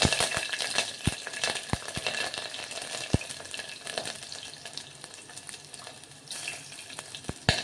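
Whole garam masala and green chili dropped into hot oil, giving a steady loud sizzle with scattered sharp pops and crackles throughout, no talk.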